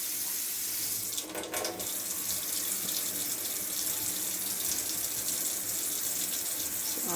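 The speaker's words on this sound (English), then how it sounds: "So I'm going to give it a little rinse." Enoki mushrooms rinsed under a running kitchen faucet, a steady close hiss of flowing water that runs alone throughout, with a brief splash or shift in the stream near the start.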